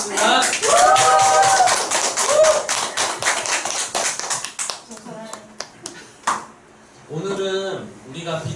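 An audience claps at the opening of a talk on vitamins and minerals, a burst of close, loud clapping that thins into scattered taps, with voices and speech-like tones mixed in.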